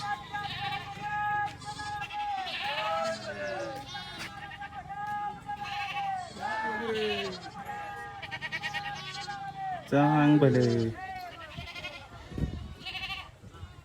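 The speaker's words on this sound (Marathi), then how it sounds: "बाळूमामांच्या बकऱ्या आहेत म्हणजे शेळ्या" A herd of goats bleats repeatedly in the evening after returning from grazing, with kids being nursed; several overlapping calls rise and fall close by under steady talk.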